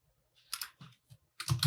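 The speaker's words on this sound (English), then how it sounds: "Just type horizontal alignment and then check it once again." A computer keyboard typed on in a few short bursts of clicky keystrokes, close and fairly quiet, with gaps of silence between them.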